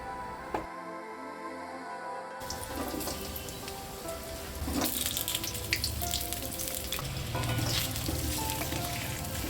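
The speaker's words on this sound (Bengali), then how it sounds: "এবার আমি কড়াইতে তেল দিয়ে প্রথমে আলুগুলো ভেজে নেব।" Potatoes frying in oil in a wok (kadai), a steady dense sizzle with crackling pops that grows louder partway through.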